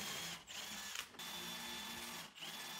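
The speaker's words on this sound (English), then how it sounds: "then we can go ahead and drill into the face" A power drill whirs steadily in bursts, drilling dowel holes into the face of a wood board with a Rockler doweling jig, briefly pausing between holes, close and loud with a high whine over a mechanical hum.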